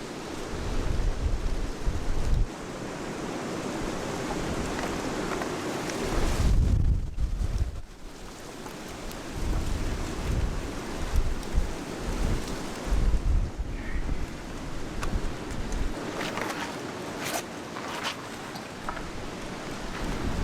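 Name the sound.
storm with rain and thunder in a video game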